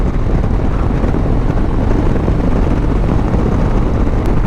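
A Harley-Davidson bagger motorcycle engine pulls hard under acceleration, a loud, steady, dense roar with heavy wind buffeting on the microphone throughout.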